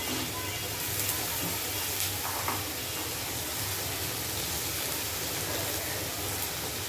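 Pieces of ridge gourd and potato sizzling in a hot pan, a steady dense hiss with a low background rumble, held at moderate level throughout.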